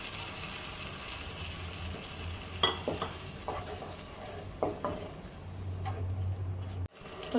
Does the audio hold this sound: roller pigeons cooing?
no